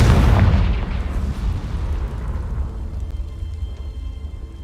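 A loud spell explosion from the Hogwarts Legacy video game, a Bombarda or Confringo blast, erupts with a heavy boom and rumbles on as a long, slowly fading low roar with no voices.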